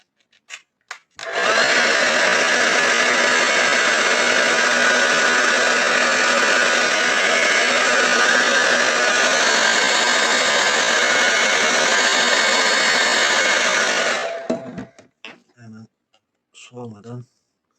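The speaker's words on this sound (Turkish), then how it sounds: "fön makinesini açıp şöyle bir isteyeyim" Hair dryer blowing hot air during the repair of an Insta360 X3 camera lens: a loud, steady broadband whoosh running about thirteen seconds, starting and stopping abruptly, with brief talk before and after.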